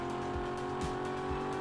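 A fast car in the Vehicle Legends racing video game drives at speed with a steady, loud, tonal engine drone and faint tire noise, continuous throughout and with no voices.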